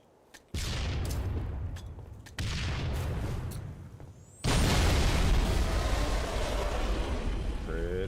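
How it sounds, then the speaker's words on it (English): Grenades burst against a massive Covenant cannon in Halo 3, three loud explosions in sequence, each a sharp blast followed by a rumbling tail, the last one heaviest and sustained. "Let's test it out by throwing some grenades at it"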